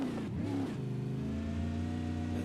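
A V8 touring race car at Watkins Glen, stopped after a front-on crash, fires its engine back up, with a rough low rev dip and then a steady, throaty idle held close by.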